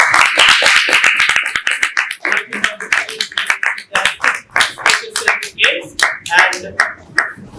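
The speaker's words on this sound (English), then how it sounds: "give a big round of applause" Audience clapping at an inter-school debate championship awards moment, sharp close handclaps building into rhythmic applause, with a voice speaking over it at the start.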